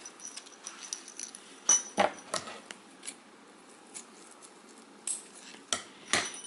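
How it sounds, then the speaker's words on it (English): Thin craft wire being measured and snipped for a homemade Christmas penguin ornament, heard as small sharp metallic clicks and light clinks scattered over a quiet background, close up and with no voice. "So I'll just cut that now right here."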